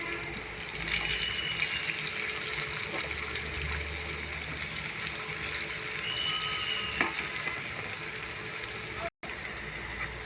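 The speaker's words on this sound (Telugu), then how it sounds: "అయిపోయిందండి, అన్నీ వేయించుకున్నాము." Food fries in a pan while cooking a curry with thota kura (amaranth greens) and liver, giving a faint, continuous hissing sizzle with occasional soft clinks, heard at a distance.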